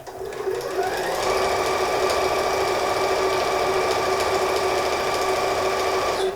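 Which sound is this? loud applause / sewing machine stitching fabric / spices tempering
sewing machine stitching fabric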